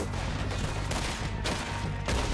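Several loud gunshots crack out in Red Dead Redemption 2 in a dense, noisy stretch of gunfire, with distinct reports spaced roughly half a second apart.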